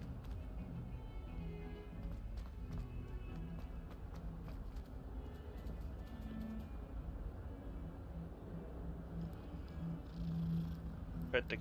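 A kitty purrs softly while being petted in a Hogwarts-style wizard video game, a low continuous rumbling hum under faint ambient noise, rising slightly near the end.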